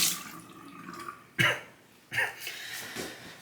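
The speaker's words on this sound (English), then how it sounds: "Once you put water on the stone," Water is splashed and dribbled onto a Shapton Pro 1.5k sharpening stone, heard as a few short, close wet splashes separated by quieter gaps.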